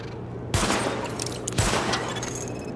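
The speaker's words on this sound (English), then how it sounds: "Open fire at the highlighted targets." A loud gunfire test in a video game: two sharp bursts of rapid shots hit about a second apart, with a rumbling tail and faint background hum between them.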